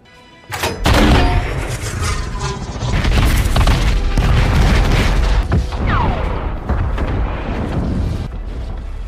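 A sudden loud cannon blast followed by a long, rolling explosion roar with scattered crackles and thuds fading slowly.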